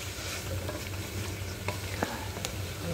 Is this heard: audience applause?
no